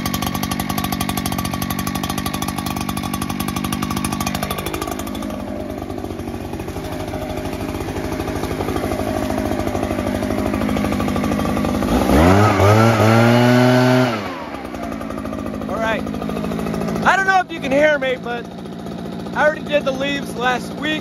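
A powerful gas leaf blower engine runs loud and steady at idle, its pitch shifting and briefly surging midway, with a few sharp rattles near the end.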